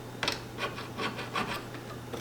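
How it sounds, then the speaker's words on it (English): A hand file rasps across a small pewter casting held on a V block, several short strokes in quick succession, close but fairly soft over a steady hum. "use this V block to put your casting on and use things like your file to do the filing we need to do"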